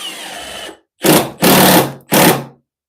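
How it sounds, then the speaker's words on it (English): Power driver sinking screws into a wooden workbench, countersinking the heads. One continuous burst, then three loud, close whirring bursts in a row, each stopping sharply. "Luckily, these screws are countersinking good enough for me"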